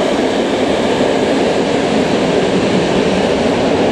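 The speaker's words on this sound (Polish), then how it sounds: "Pociągi." Trains passing on a rail line near a coastal walking route, a loud, continuous broadband rumble and roar that stays even throughout, heard up close with no talk.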